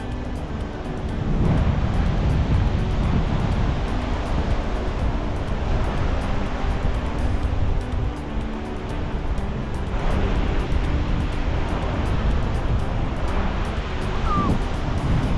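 Ocean surf washing onto a North Queensland beach, a steady broad roar of breaking waves mixed with wind buffeting the microphone, loud and continuous for the whole stretch, with no talking.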